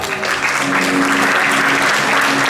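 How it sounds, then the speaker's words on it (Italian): Loud, steady applause from an audience at a startup competition award ceremony as winners come on stage, continuous dense clapping with a faint voice or music tone underneath. "facciamo un bel applauso adesso"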